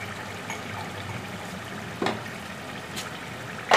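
Two cups of water go into moong dal for a fry with badi, making a soft, continuous trickle under kitchen ambience, with a few brief splashy bursts near the end.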